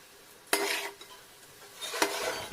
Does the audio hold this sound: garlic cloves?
yes